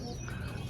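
Teddy pigeons in a home loft give a soft, low cooing murmur that runs steadily through the short moment, close by and fairly quiet, with no one talking.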